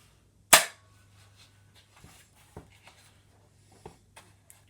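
A Nerf Vanguard LR1 toy blaster fires once with a sharp, close snap, then a few faint clicks and handling taps follow against a quiet background.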